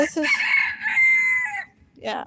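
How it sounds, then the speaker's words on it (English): A rooster named Oreo on a small farm gives one loud, close, drawn-out crow, followed by a brief fainter call at the end. "you keep crowing because you're trying to draw some hens"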